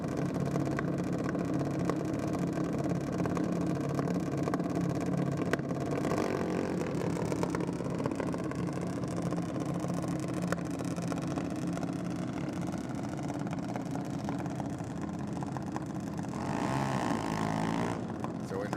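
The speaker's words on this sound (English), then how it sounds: "Robbie's taking on Jacob Longo in the trackside automotive junior dragster." Junior dragsters race down a drag strip at a Sydney drag racing championship round, their engines droning steadily at a moderate distance amid outdoor crowd noise, with a commentator talking throughout.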